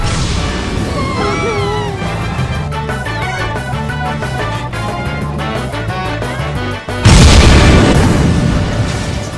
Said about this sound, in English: The rocket is going to blow up with an explosion.